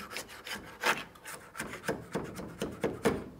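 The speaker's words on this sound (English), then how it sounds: "This cardboard I got hot glued on, it comes right off with a scraper." A scraper rasps hot-glued cardboard off the door of a '34 Ford Coupe in short, repeated scrapes, close and uneven in strength with no talking.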